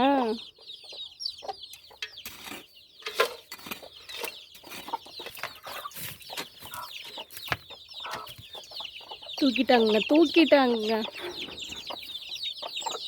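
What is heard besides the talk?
chickens clucking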